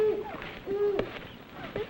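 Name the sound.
owl hooting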